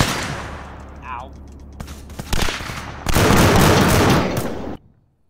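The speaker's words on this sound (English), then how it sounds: "They shot me through the wall." Gunfire in the video game Arma 3, with scattered shots building into a dense, loud sustained burst of automatic fire that cuts off abruptly.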